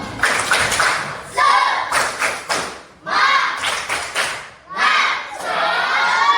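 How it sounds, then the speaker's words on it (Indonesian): A classroom of students performs a rhythmic spirit clap, with bursts of synchronized clapping and thumps separated by short pauses, loud and close, with voices chanting along. "sebelum lanjut kita tepuk semangat"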